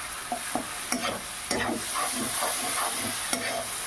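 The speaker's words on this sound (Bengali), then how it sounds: "এইভাবে দেখুন কিছুক্ষণ কষিয়ে নিলাম" Peas ghugni with tomatoes sautéed in a pan, a steady low sizzle beneath regular scraping and stirring strokes of a spatula, heard close with no voices.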